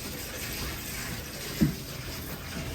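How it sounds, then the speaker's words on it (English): A steady rushing hiss of water runs through a cabin's well house water lines as they are blown out for winterizing, with one brief low gurgle partway through. "You can hear the water lines here moving. Water's moving through the system."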